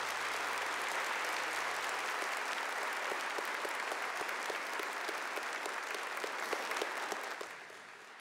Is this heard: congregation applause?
yes